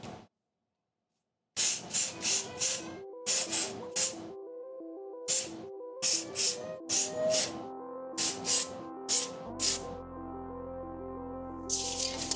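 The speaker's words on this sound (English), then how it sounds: "You can spray it on there and it'll dry very, very quickly." Isopropyl alcohol contact cleaner sprays onto a computer fan in a string of about a dozen short, sharp hissing bursts, close and crisp, over soft background music.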